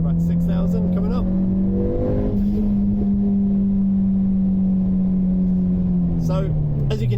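Held at 6,000 rpm, an ST180 running a Peron Stage 2 Pro exhaust drones loudly from inside the cabin, then the revs drop and crackling pops burst out near the end.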